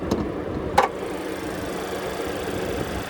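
A 2025 Chevrolet Equinox's 1.5-liter turbocharged four-cylinder idles steadily with a low, even hum heard up close from the open engine bay, with a couple of brief clicks near the start.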